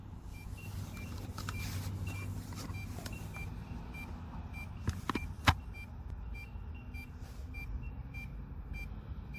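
A thin, high electronic beep repeats at a steady pace from a DJI Mavic Mini drone over a low background hum, with a couple of sharp clicks partway through.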